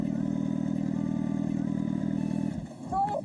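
A motorcycle engine drones steadily up close with a rhythmic, clattering idle-like pulse while riding along a forest road, then drops away near the end as a short voice and clatter take over.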